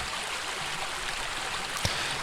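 A river stream flows in a steady broadband rush of water, continuous and even, with one brief sharper splash or knock near the end.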